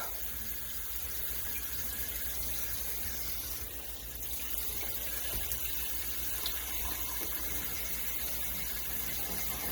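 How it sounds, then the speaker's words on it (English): Water is poured into canning jars packed with cooked potatoes, a steady, close rushing and gurgling flow that runs unbroken for nearly ten seconds with no talking. "and in goes the water."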